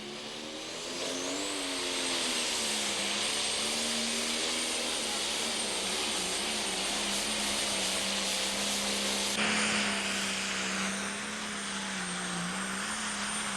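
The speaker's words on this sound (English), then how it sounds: "A lot of wheel spin and a bit of correction necessary at the end of that run." A pro stock drag racing car roars down the strip with heavy wheel spin, a loud sustained engine howl that rises and holds before easing as the run ends, with a commentator talking over it.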